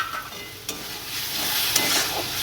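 Spices and ground cumin paste being stir-fried in a pan for a Bengali dish, a steady close sizzle with a couple of brief scraping stirs.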